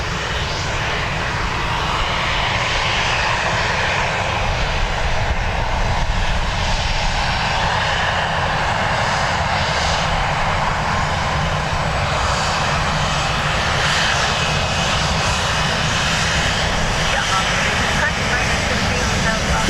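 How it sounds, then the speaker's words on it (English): Ryanair airliner taxiing past at Dublin Airport, a steady, loud jet engine roar with broad rumble and hiss, sustained and close throughout, with faint voices underneath. "We'll get this Ryanair taxi past first."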